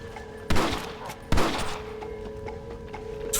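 Gunfire in the Red Dead Redemption video game: two loud, sharp shots about a second apart, each with a ringing tail, over a steady game hum.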